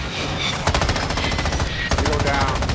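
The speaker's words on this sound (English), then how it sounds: "I'm shooting this Vito." Bursts of automatic gunfire in Call of Duty: Modern Warfare II, a rapid loud rattle of shots that pauses briefly and then resumes, with game chatter mixed underneath.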